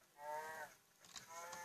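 A Minecraft cow gives two lowing moos, the first fuller and longer, the second shorter and rougher, close and clear with nothing else around them.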